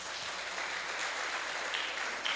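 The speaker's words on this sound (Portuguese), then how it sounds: "Dê um aplauso ao Senhor por isso" Church congregation clapping in praise to the Lord during a sermon, a continuous, even roar of many hands at moderate loudness, no speech over it.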